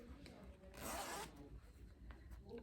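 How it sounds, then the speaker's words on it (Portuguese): Zipper on spandex trousers being opened during sewing, a single quiet rasping pull lasting about half a second, close and alone with no talking. "Abre o zíper"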